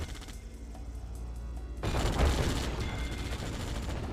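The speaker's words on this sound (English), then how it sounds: "Sentry guns are out." Sentry guns open fire in a real-time strategy video game match, a quiet start giving way to a dense burst of rapid gunfire and explosions. The shooting stays sustained and loud, with no voices over it.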